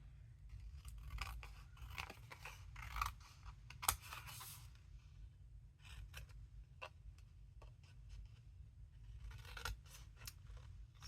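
Scissors trimming a paint chip sample card, a run of small crisp snips and clicks scattered through a quiet room over a steady low hum, close and faint, with no talking.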